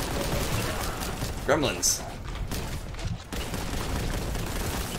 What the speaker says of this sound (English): With the plasma grenade launcher.